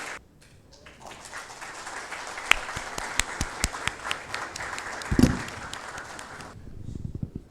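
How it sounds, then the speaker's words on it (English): A conference audience applauds its guest speakers, with scattered claps building into sustained, moderately loud clapping that lasts several seconds before fading. "Let's give a big round of applause for our true legends, ladies and gentlemen."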